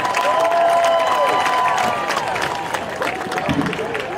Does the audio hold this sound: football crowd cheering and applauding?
yes